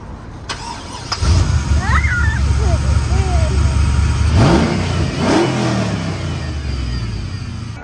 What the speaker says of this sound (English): I'm gonna give it a couple of revs so you guys hear what it sounds like.